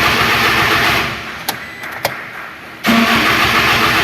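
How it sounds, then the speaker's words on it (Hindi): A 2008 Toyota Hilux engine cranking but not starting, loud rhythmic starter churning that drops away briefly with a couple of clicks, then resumes cranking. "ये गाड़ी सेल्फ ले रही है पर स्टार्ट नहीं हो रही है"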